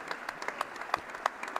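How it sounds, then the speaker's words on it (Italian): A small crowd gives brief, scattered applause for athletes and torchbearers at a Fair Play Day event, the claps light and fairly distant. "solo per farvi un applauso"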